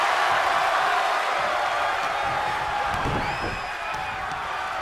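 A loud arena crowd roars and cheers in the wrestling video game WWE 2K23, a steady wall of noise with a few whistles and whoops rising late.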